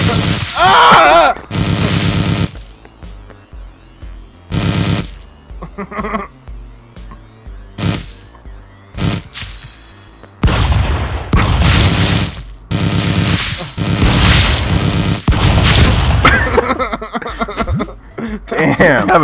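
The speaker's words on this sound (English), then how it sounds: "I have a pistol just unloading" A pistol fires repeatedly in the Stick Fight game, sharp bursts of shots in uneven clusters, loud and close, mixed with players talking and laughing.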